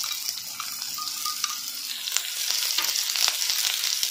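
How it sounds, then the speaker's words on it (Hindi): Cumin, chopped ginger and beans hit hot oil with a loud, close sizzle that swells after a couple of seconds, sharp spattering pops breaking through; no voices. "ये तेल हमारा गरम हो चुका है, हम इस तेल में डालेंगे थोड़ा सा जीरा, चॉप्ड जिंजर, ये बीन्स डालेंगे"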